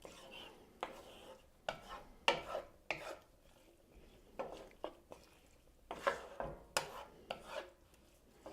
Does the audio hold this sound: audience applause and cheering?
no